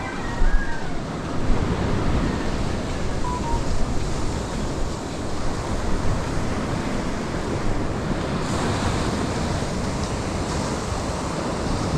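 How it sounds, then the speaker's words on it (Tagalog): Calm sea surf washes in a steady, broad rush of noise for the whole stretch, with wind buffeting the microphone and no clear break between waves. "Kalmadong dagat eh."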